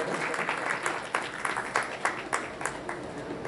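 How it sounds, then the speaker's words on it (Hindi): Audience applause at a Shri Amritvani Chalisa Satsang grand finale award ceremony: steady crowd clapping with a few louder individual claps, sustained through the whole moment. "जोरदार तालियों से आप उनका अभिनंदन करें।"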